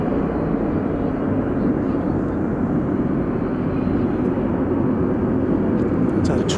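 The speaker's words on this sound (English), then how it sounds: "United Flight 1565 arriving from the mile-high city of Denver" A 23-year-old United Boeing 737-800 arriving at DFW Airport at night produces a loud, steady broadband roar that stays constant throughout, with no clear rise or fade.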